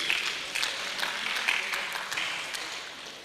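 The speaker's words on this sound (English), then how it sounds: "Please, a round of applause for him." Applause from an audience at a teachers' innovation fellowship award ceremony, a steady, fairly quiet patter of many hands clapping for about three seconds with no speech over it.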